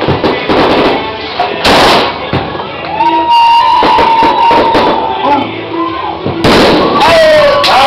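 Fireworks crack and burst loudly nearby in several sharp bangs, with whistling streaks between them and excited voices shouting throughout.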